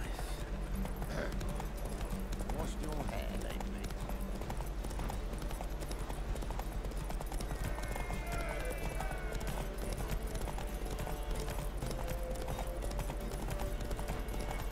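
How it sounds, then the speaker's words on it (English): A horse gallops in a race in the video game The Witcher 3, its rapid, steady hoofbeats continuous and close throughout, with game music and a brief spoken line over them. "I haven't done any horse racing for a while, so that's fun."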